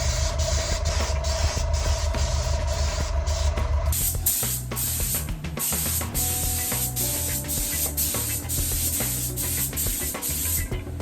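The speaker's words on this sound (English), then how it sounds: "the second coat of clear is down" A spray gun lays clear coat onto restored Moto Guzzi tank and side cover parts, a steady close hiss that runs the whole time, with a shift in tone partway through and faint clicks beneath it.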